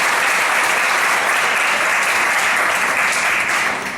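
Loud, sustained audience applause at a judicial-sector labor-rights conference, dense steady clapping from a large crowd that holds level and begins to taper in the final moments.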